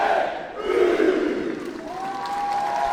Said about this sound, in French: s'il vous plaît, du bruit pour les 3 lettres les plus dangereuses du catch, JGU